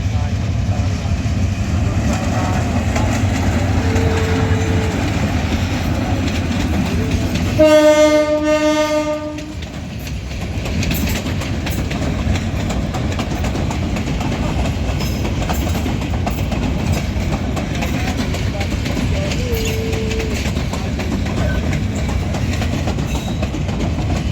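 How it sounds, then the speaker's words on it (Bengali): A shuttle train passing through Chattogram cabin junction, rumbling steadily with clattering wheels and a loud horn blast partway through, while people talk nearby. "আপনারা যে ট্রেনটা চলে যেতে দেখলেন এটা আসলো চট্টগ্রাম বিশ্ববিদ্যালয় থেকে"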